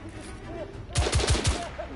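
Gunfire in The Order: 1886 aimed at a lock, a quick burst of four loud shots in rapid succession over steady game background ambience.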